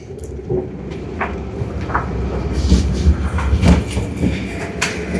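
A train running from Germany to Switzerland rumbles along the rails with a steady low roar, occasional clacks and squeaks from the carriage, fairly close and continuous.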